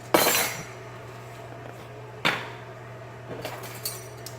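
A metal teaspoon clinks sharply against a bottle while measuring baking soda: two bright strikes a couple of seconds apart, followed by a few lighter taps, close and clear in a quiet room with a low background hum.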